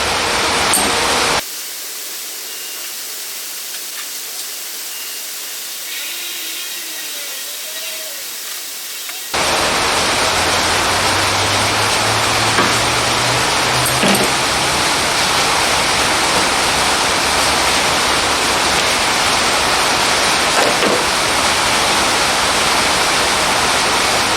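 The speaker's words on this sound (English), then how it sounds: "Rain might be a little noisy. It's been downpouring." Loud, dense hiss of heavy rain pours steadily, dropping away briefly before returning at full strength, with faint low rumbles underneath.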